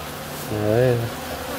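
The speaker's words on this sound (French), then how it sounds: "Quelques abeilles qui viennent vous voir, mais c'est vraiment soft." Black honeybees at an open hive give off a droning buzz that swells up near the middle, wavers in pitch as a bee passes close, then settles back into a steady hum.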